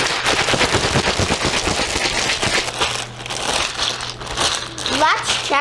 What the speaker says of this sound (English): Then she says shake it with a tea towel.